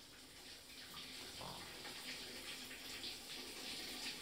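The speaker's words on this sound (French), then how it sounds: "C'est papa qui prend sa douche." Steady hiss of a shower running behind a bathroom door at home, continuous water spray at a moderate distance with no voices.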